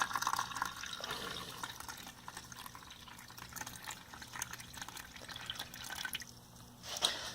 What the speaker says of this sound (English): take this little cup, fill it up with water,